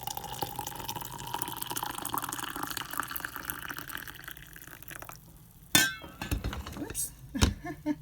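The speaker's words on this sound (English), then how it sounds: "we are going to pour our coffee" Coffee pours into a mug with a soft, continuous liquid trickle for several seconds, followed by a few sharp ceramic clinks near the end.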